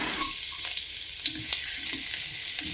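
Garlic and ginger sauté in a pan for a fish soup, giving a loud, continuous close-up sizzle with a few small clicks and pops scattered through it.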